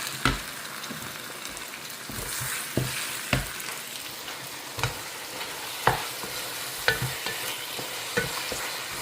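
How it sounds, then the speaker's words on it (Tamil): Sour eggplant sautés in a pan with a continuous sizzle, broken by repeated clinks and scrapes of a spoon stirring at irregular intervals, close by with no talking. "இது புளிப்பு கத்திரிக்காயில் அழகாக வதக்கிடலாம்"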